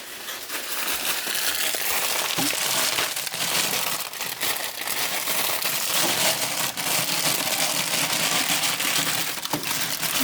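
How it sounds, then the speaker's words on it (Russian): Clean premium wood shavings are poured into a hamster cage as fresh bedding, giving a loud, continuous dry rustling and crinkling over about ten seconds, with a few sharper crackles and no talk. "Теперь сыпем новую чистую стружечку."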